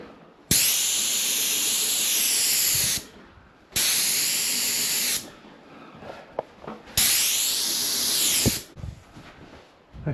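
A paint sprayer misting a ceiling with bold colour, three long loud hissing bursts separated by quieter gaps with faint clicks and handling noises.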